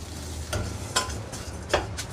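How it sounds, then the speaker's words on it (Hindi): Ground spices frying and being stirred in a pan over low flame for chainsoo dal, with a continuous sizzle and three or four quick scraping strokes of a spoon close by, and no voices. "अब हम ये पिसे हुए मसाले इसमें डाल देंगे और इसको भी अच्छी तरह से भून लेंगे।"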